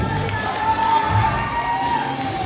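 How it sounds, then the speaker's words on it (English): A graduation crowd at an NGSA ceremony cheers and claps for a graduate, a steady, loud wash of voices and applause filling the hall. "Another round of applause for NGSA graduate Ariana James"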